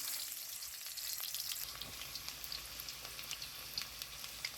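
Mustard oil frying in a pan ahead of mutton kosha, a faint crackling sizzle with scattered spitting pops throughout, steady and fairly quiet, no voices.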